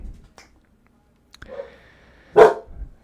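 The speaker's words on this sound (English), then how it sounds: "I got my dog here with me tonight." A dog barks once, a short loud burst near the end, after a few faint clicks and soft knocks in an otherwise quiet room.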